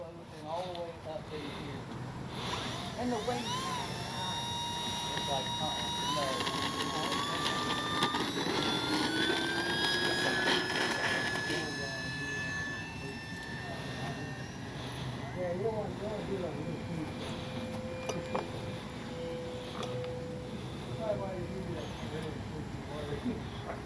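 An FMS Cessna 182 Skylane radio-controlled plane flies overhead, its electric motor giving a steady whining drone that rises and falls in pitch as it passes, with outdoor background noise and occasional bird calls.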